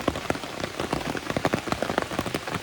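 Light rain patters steadily on a surface on the Appalachian Trail in Connecticut, with many small irregular drops tapping close by and no voices.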